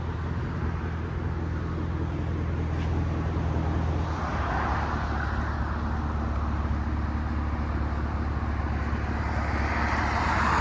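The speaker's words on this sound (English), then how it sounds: "It's got a nice idle to it, it's not crazy loud." A Chevy Camaro SS with a 6.2L V8 and aftermarket exhaust idles close by, a steady low rumble that swells slightly partway through, with no voices.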